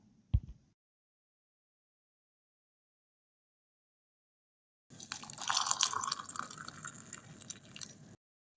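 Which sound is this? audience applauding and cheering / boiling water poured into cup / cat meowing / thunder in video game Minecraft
boiling water poured into cup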